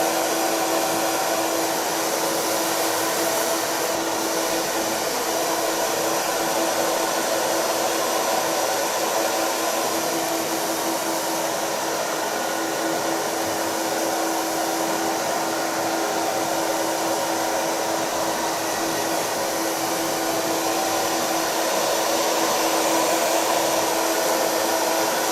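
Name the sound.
hair dryer blow-drying hair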